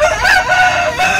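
Chickens of the Rhode Island and White Sussex breeds, part of a backyard flock of over a hundred beside a house, with a rooster crowing in repeated drawn-out calls, close and fairly loud.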